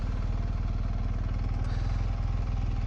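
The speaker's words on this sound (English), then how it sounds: "This is a 1250cc engine, so it's got a pretty good amount of pull just by going slowly" A 1250cc motorcycle engine chugs at low speed with a steady, even pulse, close and fairly quiet.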